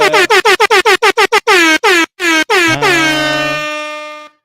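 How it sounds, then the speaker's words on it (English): A truck-style air horn blasts in a rapid burst of short honks, then a few longer blasts and one sustained blare that fades, loud and close. "I'm going to throw some air horns in this"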